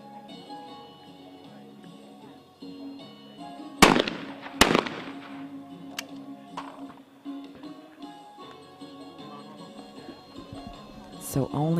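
Shotguns at a mixed-team skeet final of the ISSF World Cup in Cyprus fire a few test shots, sharp loud bangs that ring out over music and a commentator's voice.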